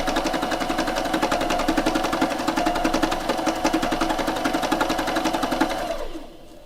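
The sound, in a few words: needle felting machine running fast on fabric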